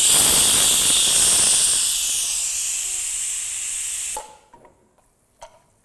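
A loud, forceful hiss of steam escaping under pressure from a pressure cooker of chicken curry, tapering slightly before cutting off abruptly, followed by a few faint clinks.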